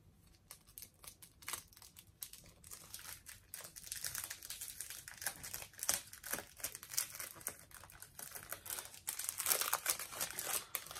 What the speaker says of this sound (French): Donc, un joli petit papier cadeau.